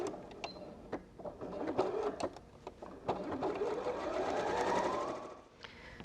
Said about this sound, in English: We'll make that the same width as all the others by sewing a 7cm square of background fabric on the end of each.